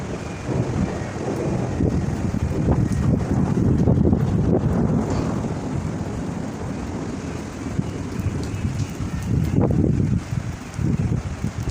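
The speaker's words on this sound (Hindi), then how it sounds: "हवा बहुत ठंडी और बहुत तेज़ है" Strong gusty wind buffets the microphone in loud rumbling bursts, with a steady background roar of weather throughout.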